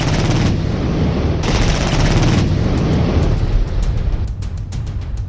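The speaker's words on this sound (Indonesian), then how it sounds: "Senjata ini mampu memuntahkan rentetan tembakan dengan kerapatan 16 tembakan per detik" A loud, dense stream of rapid anti-aircraft cannon fire at about 16 shots per second, shots blurring into a continuous roar with brief pauses between bursts, heavy booming underneath.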